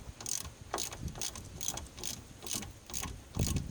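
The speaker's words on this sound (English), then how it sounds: "So we're going to take these pinch bolts out." Ratchet wrench loosening pinch bolts on a Land Rover chassis, a series of about eight quick rhythmic clicking bursts, close and clear with no voices.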